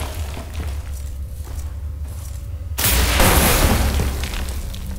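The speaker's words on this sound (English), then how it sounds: "I'm just gonna shoot these anyways" Gunshots and explosions from the video game Wolfenstein: The New Order: a steady rumbling din, then a louder blast of noise swells in the middle and carries through to the end, with no talk.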